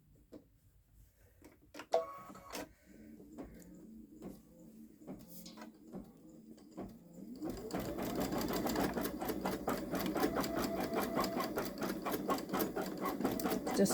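A Babylock Solaris Vision sewing machine runs long-stitch embroidery, first with sparse ticks and mechanical clicks, then settling into a steady, loud, rapid stitching rhythm that continues to the end.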